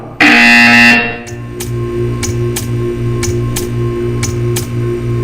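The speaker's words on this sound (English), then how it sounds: "You will hear a buzzer." A loud, harsh electronic buzzer in the video game Portal 2 blares for about a second, then steady ticking continues over a low hum.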